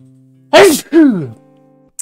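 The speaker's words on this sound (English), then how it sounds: "I'm going to sneeze" A single loud, close sneeze comes in two bursts, a sharp inhaled catch followed by the explosive release, over quiet background hum.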